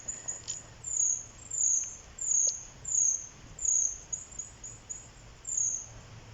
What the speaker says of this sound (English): I think it might have been a jay.